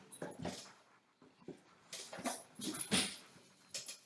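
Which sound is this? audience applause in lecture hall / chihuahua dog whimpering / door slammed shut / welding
chihuahua dog whimpering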